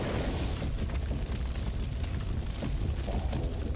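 Weapon explosions in the sci-fi shooter game Void Bastards, a dense continuous rumble of blasts and fiery crackle, steady and loud throughout with no talking.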